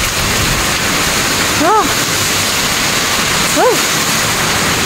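Heavy rain from Super Typhoon Kristine in the Philippines pours in a dense, constant hiss, with two short vocal exclamations breaking through briefly.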